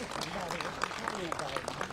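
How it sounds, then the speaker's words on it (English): Audience clapping for an alderman at a mayoral press conference on West Side flooding, a faint, steady patter of hands beneath a speaking voice. "Give him a nice round of applause"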